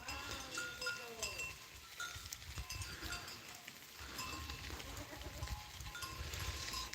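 A herd of mountain-breed goats on a rural farm bleats at intervals, near and far, while cowbells clink and someone talks in the background.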